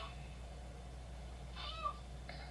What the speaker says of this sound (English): The cat was calling you.